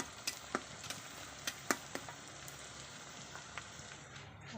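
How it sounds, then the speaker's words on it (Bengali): Onions frying in a pan over a clay stove in a village setting: a faint, soft sizzle with occasional sharp pops and stirring scrapes, no talking. "প্রথমে পেঁয়াজগুলো লাল লাল করে ভেজে নিচ্ছি"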